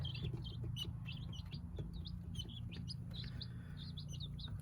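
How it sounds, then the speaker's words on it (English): Lavender guinea keets give rapid, high, bright chirps that repeat steadily, close by, over a constant low hum from their warming setup on a homestead. "I got 4 little lavender guineas"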